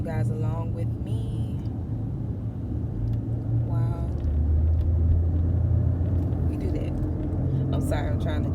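Steady low road rumble and engine drone fill the cabin of a moving car, with a person talking over it throughout.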